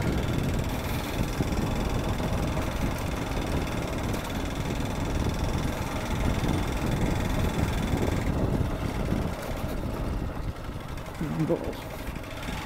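Motorbike riding along an unpaved jungle road near Gaighat waterfalls, a steady mid-pitched engine drone with rumbling road noise running continuously throughout, close and loud.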